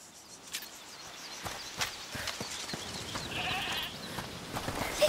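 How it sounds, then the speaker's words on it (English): A goat in A Plague Tale: Requiem bleats in a few short, faint calls among light footsteps and quiet ambient sounds. "Is that the goat he talked about?"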